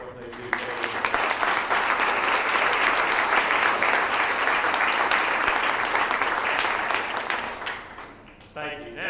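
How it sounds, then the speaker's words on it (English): An audience at a Washington, D.C. panel event gives a round of applause for CDC staff, building quickly into dense, steady clapping for about seven seconds before tapering off as a speaker resumes talking. "join me in giving our colleagues and wonderful people at the CDC a round of applause"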